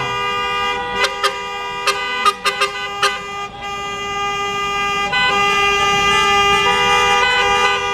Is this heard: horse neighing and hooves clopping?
no